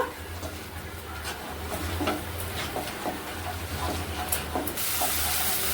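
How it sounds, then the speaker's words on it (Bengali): Pointed gourd seeds with salt, turmeric and a little sugar are stir-fried in a hot pan, a close sputtering hiss with scraping stirs, ending in a louder burst of sizzle. "এবার ভালো করে কষিয়ে নেব।"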